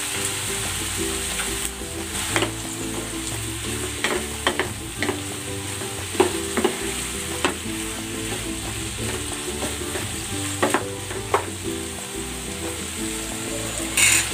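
Chicken frying and sizzling in a pan with soy sauce, oyster sauce, tomato sauce and vinegar, a steady loud crackle broken by repeated scraping stirs, with no voices.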